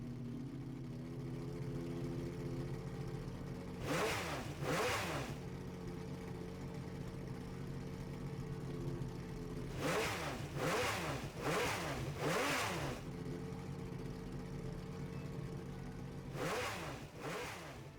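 Jaguar XJR9 race engine swapped into a TVR Tuscan Speed 6 in Gran Turismo 7, holding a steady engine drone with several sharp revving bursts near 4, 10–13 and 17 seconds, no talk.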